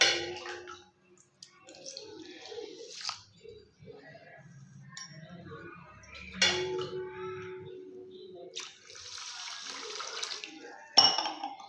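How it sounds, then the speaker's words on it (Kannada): Water runs and splashes into a bowl in short bursts, filling it enough to submerge washed dosa ingredients for soaking, with light clinks of dishes in between, fairly quiet. "ಮುಳುಗುವಷ್ಟು ನೀರು ಹಾಕೊಳ್ಳೋಣ"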